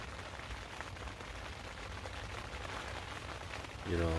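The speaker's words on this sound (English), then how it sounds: "It's raining quite heavy now." Heavy rain falling through the night at a carp fishing lake in autumn, a steady dense hiss of drops with a brief louder thump near the end.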